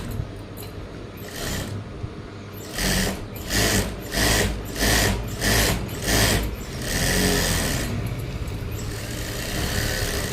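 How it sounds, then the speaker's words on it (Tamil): A sewing machine runs a dummy stitch along a blouse sleeve in close, loud bursts of rapid whirring, several short runs separated by brief pauses, then a longer steady stretch. "டம்மி தையல் போட்டாச்சு"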